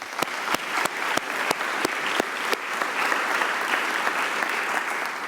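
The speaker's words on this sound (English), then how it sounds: "Let's give her a round of applause." A crowd applauds the city vice mayor during a Little Rock State of the City address, steady clapping with a few sharp, distinct hand claps standing out over the wash of the audience.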